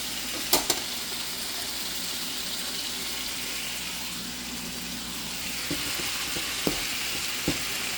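Chickpeas fry and sizzle steadily in a pan throughout, a continuous close hiss broken by a few sharp clicks and taps of stirring, with no talk.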